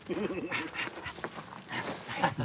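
A lively dog close to the microphone during an outdoor firewood-splitting session, giving repeated short barks and vocal yaps over steady background noise and some talk.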